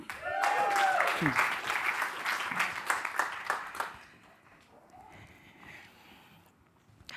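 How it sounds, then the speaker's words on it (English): Audience applause at a 2024 keynote, loud and dense at first, then thinning into scattered claps and fading out, with a voice speaking over the start. "round of applause for Elaine."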